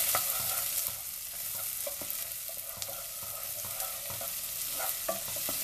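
Onion and garlic fry in a pan under a loud, continuous sizzle, with repeated clicks and scrapes of stirring throughout and no voices.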